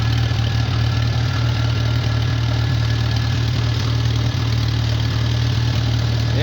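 A small engine idles roughly after being choked and started, a loud, steady, close chugging with a faint regular knock and no voices.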